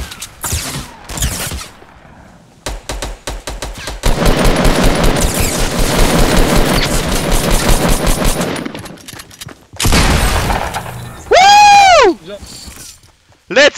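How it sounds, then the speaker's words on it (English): Fortnite Battle Royale squad match with loud bursts of rapid automatic gunfire, separated by short gaps, followed by a sustained volley and a wavering tonal whine near the end; voices can be heard. "Someone is shooting me"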